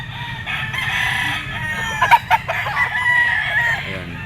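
Several roosters at an outdoor pet market crow close by, long overlapping calls with clucking and other fowl noises among them and a low crowd murmur underneath.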